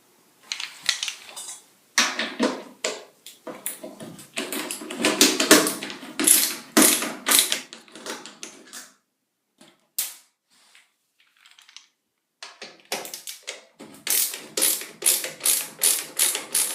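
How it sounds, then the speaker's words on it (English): Hex head screws being removed from the back of a Whirlpool Cabrio washer, with rapid bursts of clicking ratchet or driver sounds up close, pausing between screws, no talking. "You've got 1, 2 1/4-inch hex head screws to remove."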